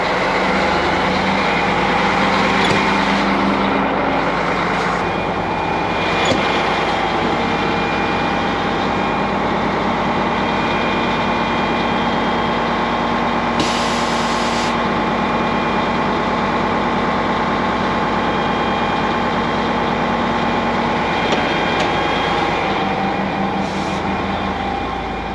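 A tractor engine idles with its PTO engaged while warming up, a loud steady low rumble with constant droning hum running unbroken throughout, no talking.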